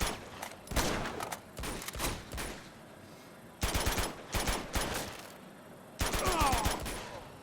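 Automatic gunfire rattles in the video game Uncharted 2 during a jungle mission, coming in several loud, rapid bursts separated by short pauses.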